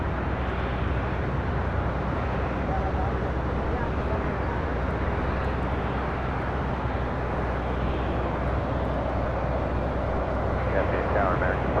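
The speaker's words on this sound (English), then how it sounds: "Latam Airlines 8087, rolling on 25 right to Sao Paulo on a 787-9 Dreamliner" A LATAM Boeing 787-9 Dreamliner rolls for takeoff on runway 25 right at Los Angeles International Airport, giving a steady, broad jet engine roar at moderate distance under voices talking throughout.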